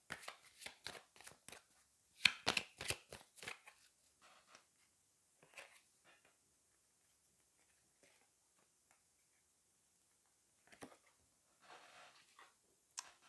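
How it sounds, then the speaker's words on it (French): Tarot cards being shuffled and drawn, heard as quick bursts of close, crisp card riffling and slaps at the start, then sparse soft flicks and taps as cards are laid down, with long quiet gaps between. "Allez, on va aller prendre 3 autres cartes."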